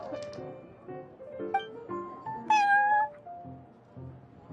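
A cat in Genshin Impact meows several times in a row, close and clear, with one longer, rising meow near the end over light game ambience.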